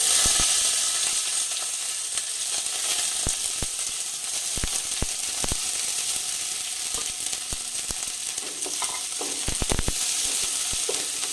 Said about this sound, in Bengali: পেঁয়াজটাকে এবার আমি ভেজে নেব